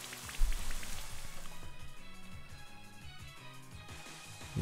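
Rain from the Rain Dance move in Pokémon Sword comes as a soft, steady patter of drops blended with the game's background music, continuing evenly at moderate volume.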